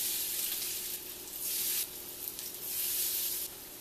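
Potato patties frying in hot olive oil in a pan give a steady, close hiss of sizzling that swells and eases in waves, with no talking.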